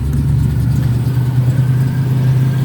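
A 1967 Daimler V8 250 engine runs at a steady, loud idle, a close, even low-pitched burble with no revving or breaks.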